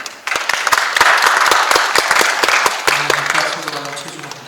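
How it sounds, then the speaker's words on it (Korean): Audience applause fills the hall at a forum on an arts festival and urban culture for the Chuncheon puppet festival: a steady wash of many hands clapping with sharp individual claps, fading as a voice begins near the end. "박수 부탁드립니다."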